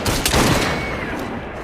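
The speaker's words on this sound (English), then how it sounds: "Draw your weapons and fire!" A musket volley crashes out in Assassin's Creed Syndicate, a dense burst of overlapping shots that rings out and decays across the short clip.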